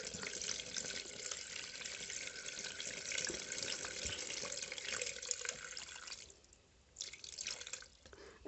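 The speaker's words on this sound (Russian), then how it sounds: "Вот я беру препарат, тот, что мы готовили в самом начале, и наливаю" A liquid preparation is poured into a small wick-fed orchid pot with a double bottom, giving a close, steady trickling stream that breaks off briefly and then resumes.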